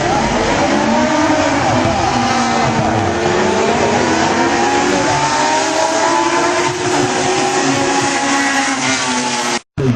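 Several race car engines, including a Peugeot 206, roar loudly and continuously, pitches rising as they accelerate together from a start, with a brief cut near the end.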